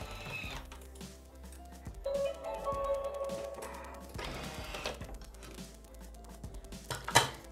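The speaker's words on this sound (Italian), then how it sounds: "Il cacao ed azioniamo il bimby per 1 minuto" A Thermomix TM6 kitchen machine mixes egg, yolk and cocoa at speed 3 for cookie dough, a whirring motor with clattering and tapping in the bowl, moderately loud and close, with no talking.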